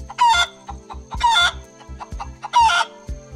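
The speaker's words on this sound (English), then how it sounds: "Chicken." Cartoon chicken clucking, three sharp, close cluck bursts evenly spaced over a light rhythmic music backing.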